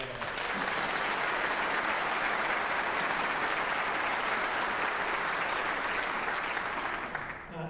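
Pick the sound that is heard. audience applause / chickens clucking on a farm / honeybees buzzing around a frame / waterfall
audience applause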